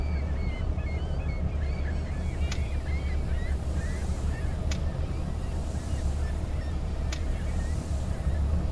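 Faint seagull cries drift over steady waves and wind in the game Fishing: North Atlantic Enhanced Edition, with a few sharp ticks breaking through the constant surf.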